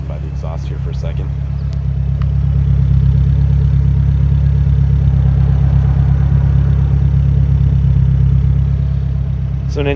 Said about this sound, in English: We can go listen by the exhaust here for a second.